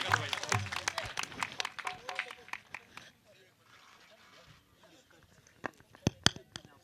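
Applause from an audience at a village event welcoming a family onto the stage, with sharp claps that start loud and dense, thin out into a quieter stretch, then return in a few scattered bursts.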